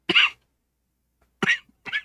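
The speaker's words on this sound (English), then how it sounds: "still getting over a cough" Three separate coughs, close and fairly loud: one sharp cough, a long pause, then two more in quick succession.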